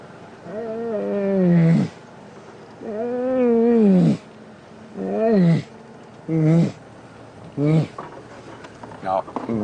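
A person imitates a lion roar with a sequence of deep, moaning calls, the first two long, then shorter ones fading into grunts, loud and close on an African safari drive.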